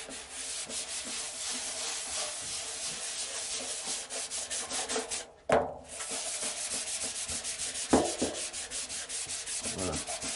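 A repaired car body panel is hand-sanded with steady back-and-forth rubbing strokes in a fast, even rhythm, close and continuous, broken by a couple of brief knocks.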